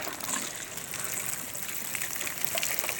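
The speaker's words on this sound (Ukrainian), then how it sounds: "кладу і наливаю воду і воно собі помаленько поливається" Water trickling steadily as it is poured into containers with holes for slowly watering pawpaw seedlings, a soft continuous flow close by with no talk.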